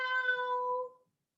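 During a children's storytime stretch, a person's voice imitates a cat with a single clear, drawn-out meow. It is heard alone and fades out after about a second.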